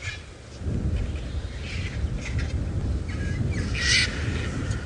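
Cape vultures squabble while feeding side by side in the bush: harsh, rasping squawks and hisses rise over a steady rumbling background, with a louder outburst toward the end.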